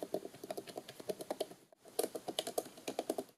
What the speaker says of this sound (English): Here's also a test of what the keyboard sounds like when tapping down.